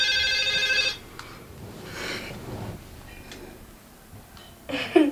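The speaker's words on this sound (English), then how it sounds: "Your phone is ringing." A phone rings with an electronic tone at first, then cuts off, leaving quiet room noise, a breath, and a faint chime returning at the end.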